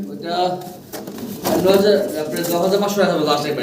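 Pigeons coo at a bird sale in low, rolling, repeated coos close by, with people talking over them.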